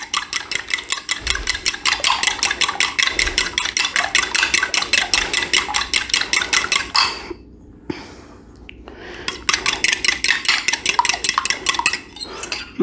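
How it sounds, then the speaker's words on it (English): Butter, sugar, oil and vanilla whisked in a bowl for whoopie pie batter: a fast, steady scraping and clinking of a whisk against the bowl, close and loud, pausing briefly near the middle before resuming. "our butter, our sugar, our oil, our vanilla. All right, so we're going to give that a good mix. Whisk that"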